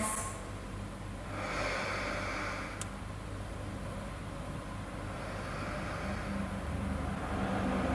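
Steady, soft breathing from a person holding a yoga resting pose during a core workout, low and continuous under a constant room hiss, with a brief breathy swell early on and no talking.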